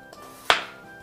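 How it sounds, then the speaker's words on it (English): A single sharp knife chop through potatoes on a cutting board for smashed potatoes, one crisp close stroke landing alone in an otherwise quiet kitchen. "we're going to go ahead and cut them up"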